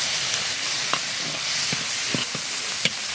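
Scallions, ginger, garlic and dried chilies frying in rendered pork belly fat for dry-pot cauliflower, a dense continuous hiss with scattered sharp spatula clicks against the wok.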